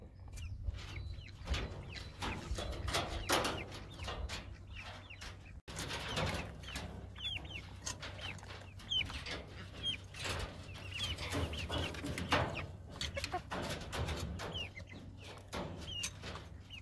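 Game chickens in a pen clucking and calling repeatedly at close range, with a steady low hum underneath and other birds chirping in the background.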